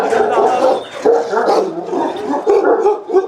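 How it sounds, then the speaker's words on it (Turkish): Pusat, a giant dog, barks wildly and repeatedly at other dogs, a loud, continuous volley of deep barks with yips mixed in and no pauses. "Daha yeni sakin gözüken dev Pusat şu an gerçekten bir vahşi, evcilleştirilmemiş bir köpeğe dönüştü"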